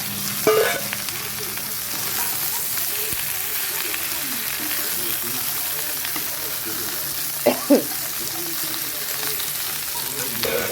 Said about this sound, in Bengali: ভেন্ডিগুলো দিয়ে দিলাম এখানে আলুটাও দিয়ে দিচ্ছি